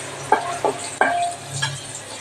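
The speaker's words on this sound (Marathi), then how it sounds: "हळद टाकली आहे अशी खमंग फोडणी आपली तयार झाली आहे" Tempering spices with turmeric sizzle in hot oil, broken by three or four sharp clinks of a spoon against the pan over about two seconds.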